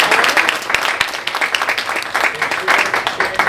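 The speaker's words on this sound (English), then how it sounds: "Let's give them another applause." A forum audience on community labor gives a dense, steady round of applause that holds evenly throughout, with a few voices faintly underneath.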